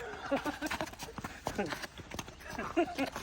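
A horse harnessed to a cart for the first time clip-clops along in an uneven rhythm, with people talking over the hoofbeats throughout.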